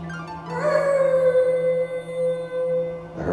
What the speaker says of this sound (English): I heard wolves howling.